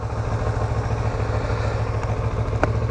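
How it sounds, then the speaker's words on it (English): Motorcycle engine idling steadily after an electric push-button start, a low, even rumble with light mechanical clatter and a brief tick near the end, heard from a rider's helmet position. "hit the start button, and we got ignition"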